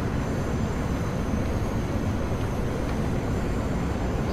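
An R160 subway train running on the Myrtle Avenue line in Roblox, a steady, loud, continuous rumble and roar of the moving train with no pauses or voices.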